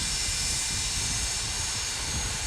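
Steady jet engine roar of an MD-80 with its JT8 engines in a flight simulator, heard from the rear cabin as a continuous broadband rumble and hiss that holds level throughout.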